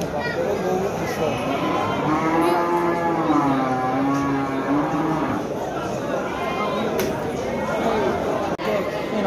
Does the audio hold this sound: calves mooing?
yes